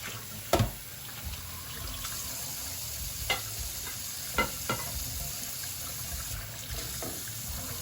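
Water runs and splashes in a kitchen sink as dishes and a sponge are rinsed, a soft continuous flow. Occasional sharp clinks and knocks of dishware cut through, close by and without speech.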